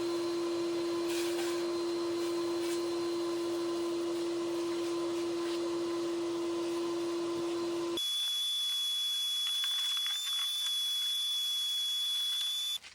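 A shop vacuum sucks dirt and debris out of the carburetor area of an Arctic Cat snowmobile, a steady close whine with a strong tonal pitch that shifts to a higher, thinner hum partway through.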